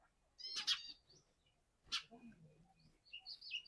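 Sparrows chirp in short bright bursts from a lemon tree, a few separate calls spaced apart with quiet gaps between them, close and clear.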